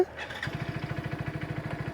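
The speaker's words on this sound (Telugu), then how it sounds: "సో చూసారా ఇంజిన్ అయితే లైఫ్లోకి వచ్చింది" A 2024 Hero Splendor+ XTEC 2.0 motorcycle engine turns over and catches, settling into a quick, even putter of idling pulses, close and fairly loud.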